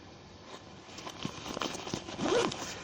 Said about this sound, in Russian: А молнии, кстати, здесь, ну, естественно, ЮККшные.